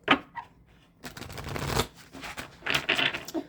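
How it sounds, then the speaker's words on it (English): A deck of cards is riffled and shuffled up close, a few quick bursts of flapping, fluttering clicks separated by brief pauses. "One more shuffle."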